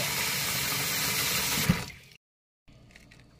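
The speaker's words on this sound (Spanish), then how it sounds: "Así que le voy a poner agua que esté calientita." Warm water pours steadily into a basin for a foot soak, a loud continuous splashing rush that cuts off abruptly, followed by silence and then faint drips and settling water.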